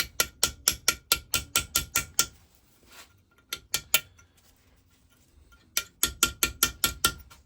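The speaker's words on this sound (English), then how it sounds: "so chisel it up round here to get rid of it" A chisel is hammered against a hard, thick deposit on the cylinder head of a 1921 Lister TM stationary engine, giving rapid bursts of sharp metallic strikes with short pauses between them, close and loud.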